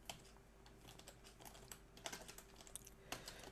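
Steady computer keyboard typing throughout, a fast irregular run of close, fairly quiet key clicks with a few louder taps, heard alone without any voices.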